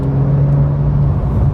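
A Porsche 911 Carrera, rear-engined and rear-heavy, climbs a hill through corners at speed, its engine holding a steady, close droning hum with a constant whirring note and no talk over it.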